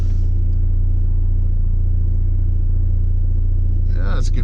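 Big-turbo VW GTI idling while parked, a loud, steady low engine rumble with an even pulse, and a short burst of voice near the end.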